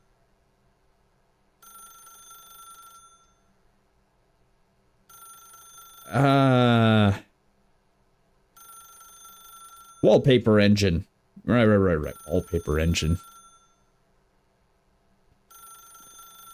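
An old-style telephone bell rings in The Stanley Parable, repeating in short bursts of about a second and a half with pauses between them, steady and clear, while someone talks over parts of it.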